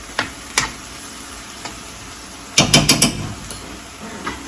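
Chicken stir fry with a splash of soy sauce being stirred in a pan, a faint steady sizzle under a few sharp scraping clatters of the utensil, with a cluster of quick knocks midway.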